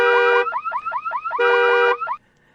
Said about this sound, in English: who needs to hit the panic button? It's the car alarm.